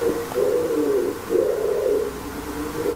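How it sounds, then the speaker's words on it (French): An owl hoots from inside a house chimney: a few low, breathy, cooing calls repeating in slow phrases, moderately close and muffled, with no talk. "il y a un hibou dans la cheminée"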